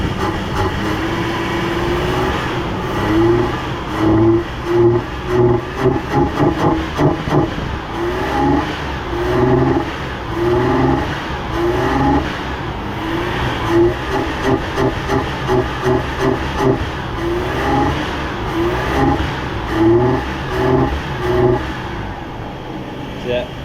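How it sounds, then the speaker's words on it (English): A Chevrolet Silverado pickup that sat unused for four years, treated with K-Seal for a suspected head gasket leak, has its engine revved repeatedly: loud, close bursts of throttle rising and falling in an uneven rhythm over about twenty seconds. "Right, go ahead and give her some RPM."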